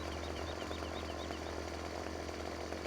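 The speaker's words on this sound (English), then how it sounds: "the left-hand button starts the chainsaw" A chainsaw in the Farming Simulator forestry game runs steadily with a buzzing two-stroke engine drone, continuous and fairly faint at low volume, with no talking.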